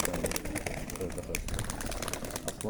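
A pigeon keeper's racing pigeons cooing in a loft, soft low coos repeating under a steady busy background, with someone talking throughout.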